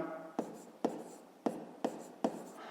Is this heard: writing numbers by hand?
yes